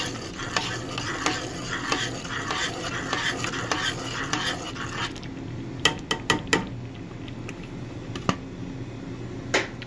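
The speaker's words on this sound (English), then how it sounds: "I'm going to stir my sauce" Italian meatball sauce stirred in a pot, a continuous bubbling simmer with a spoon scraping and knocking against the sides, followed by several sharp taps of the spoon on the pot rim, close up.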